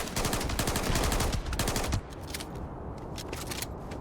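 Rapid sustained fire from the Cutter weapon in Starfield, a dense chattering burst of closely spaced shots for about two seconds, then sparser crackling pops as the stream thins, loud and close with no talk.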